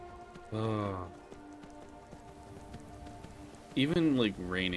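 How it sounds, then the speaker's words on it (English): Steady rain patters softly on surfaces within a video game, running as a continuous hiss under a speaking voice heard in two bursts. "Even like raining"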